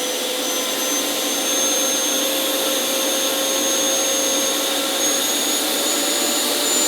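An FMS F-16 64mm EDF jet fan runs at high thrust indoors, a loud, steady whine and rush of air with high tonal lines holding constant throughout.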